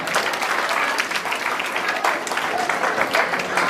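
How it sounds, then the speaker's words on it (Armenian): Audience at a youth folk-instrument concert-lesson in a village applauds a dhol player, steady dense clapping filling the room throughout with no talking. "ծափահարենք Ալեքսին"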